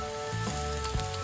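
Anchovies frying with garlic, red onion and chili in a pan produce a soft, continuous sizzle with a faint hum beneath and one small clink near the end.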